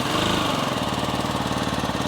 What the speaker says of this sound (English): So let's hear the stock exhaust note.